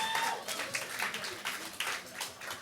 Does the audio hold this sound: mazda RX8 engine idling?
no